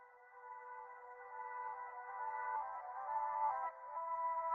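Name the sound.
reversed vocal sample with lossy effect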